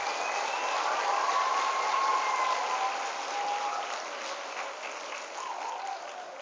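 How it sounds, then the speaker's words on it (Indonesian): Applause from hundreds of schoolgirls at a live motivational session at Thursina IIBS boarding school in Malang, a steady, moderately loud wash of clapping that holds for several seconds and eases slightly toward the end. "berikan tepuk tangan Tursina untuk Nusantara"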